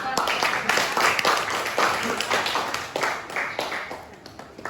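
A classroom of students claps after a group history presentation, a brisk, fairly close scattering of hand claps with uneven rhythm that thins out toward the end, with voices murmuring beneath.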